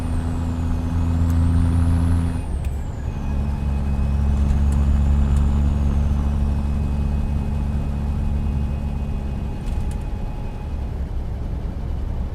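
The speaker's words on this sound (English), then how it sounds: "It's a Cummins engine, so it's a big cam Cummins 855 engine." Peterbilt 389 truck with a big cam Cummins 855 engine rumbling steadily at idle nearby, a loud continuous low drone with a brief air brake hiss partway through, no talk.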